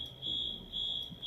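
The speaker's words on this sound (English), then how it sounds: "the fire alarm" A fire alarm shrills in steady high-pitched bursts, two long tones with short gaps between, loud and close over low room rumble.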